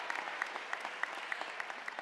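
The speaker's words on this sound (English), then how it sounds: "Yes, applause." Audience clapping at a College of Law spring convocation, a thin, fairly faint patter of individual claps with sharp peaks, heard without speech over it.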